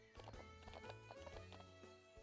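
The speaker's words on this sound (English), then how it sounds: "I like this idea of being able to ride the horse around" Hooves clip-clop steadily as a horse is ridden in a ranch video game, a quick regular rhythm of clear close footfalls over soft game music.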